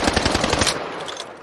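A loud, rapid burst of automatic fire from a Sten gun, about a dozen quick cracks in under a second, trailing off into echoing reverberation.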